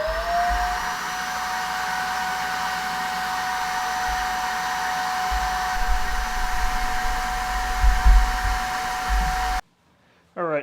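A vacuum cleaner clogged and saturated with baking soda drones steadily and loudly close by, a high whine riding over rumbling airflow, before cutting out abruptly near the end.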